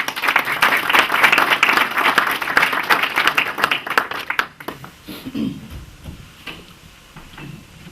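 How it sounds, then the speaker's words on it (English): An audience at a business leadership event bursts into sustained, dense applause for an incoming speaker, fairly close and loud, then it drops off abruptly midway, leaving a few scattered claps and low room noise. "Let's give him a round of applause."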